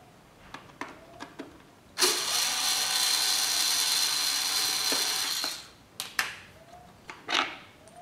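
A power driver or ratchet backs out screws on the air filter box of a Yamaha XV 250 Virago motorcycle. A few short clicks come first, then a steady whirring run of about three and a half seconds, then more brief clicks and handling noises.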